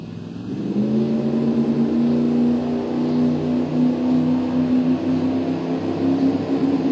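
Turbocharged big block Chevrolet drag cars launching at a dragstrip, a loud, steady engine roar that swells quickly and then holds a sustained drone from a distance.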